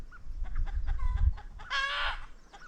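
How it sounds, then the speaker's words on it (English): Hens cluck in quick broken bursts while a rooster's loud call rises over them, nearby, with low rumbling background noise. "the rooster joining in with the egg song"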